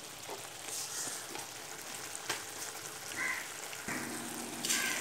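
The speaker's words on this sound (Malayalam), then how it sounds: "കടുക് പൊട്ടിയിട്ടുണ്ട്." Mustard seeds crackling in hot oil in a pan, a faint, steady sizzle with scattered small pops and ticks throughout, no voices.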